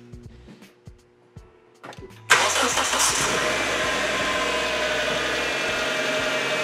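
A 2005 Hyundai Tucson with a faulty alternator starts up: a few short starter cranks and clicks, then the engine catches abruptly and settles into a steady, close idle that continues to the end.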